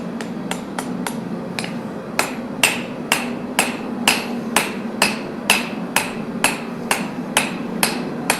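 A light hammer strikes a knife's bevels at a forge, with about twenty sharp, evenly spaced ringing blows over a low steady hum.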